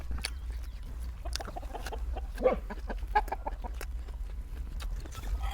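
Chickens cluck softly in a rice-field setting, with scattered short clucks and calls coming and going at a moderate distance over a steady low rumble, and no talk.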